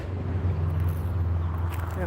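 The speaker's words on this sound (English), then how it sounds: "why does every car have to be so loud around here?" A loud car passes close by on a street, its low engine rumble holding steady and heavy through the whole short stretch.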